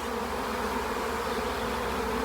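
Honeybees hum in a dense, steady swarm while a hive is transferred into a new box, the buzzing continuous, close and loud throughout with no talk.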